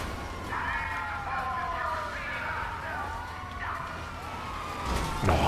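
Ambulance siren in the video game GTA V Online, wailing and sweeping up and down over a continuous engine rumble, moderately loud throughout.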